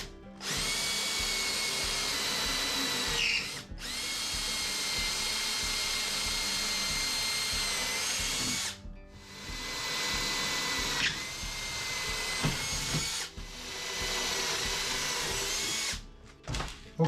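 A power drill bores through wood in long, loud sustained runs, pausing briefly between holes, while pilot holes are drilled for lag bolts mounting a vice.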